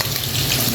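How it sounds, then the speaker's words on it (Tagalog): Hotdogs frying in hot cooking oil in a home kitchen, a steady dense crackling sizzle with a low bubbling undertone, close and continuous throughout with no talk. "prito na ko ng hotdog para sabay-sabay na siya"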